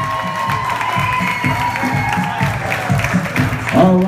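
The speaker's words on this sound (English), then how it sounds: "let's give our happy couple a great big round of" Wedding guests on a dance floor clap and cheer for the bride and groom, a continuous crowd of applause mixed with whoops and shouts, with low rhythmic thumps beneath and a brief louder swell near the end.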